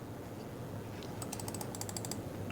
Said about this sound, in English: This is the 2nd gen Razer mechanical switch that you're seeing right here, that you're listening to right here.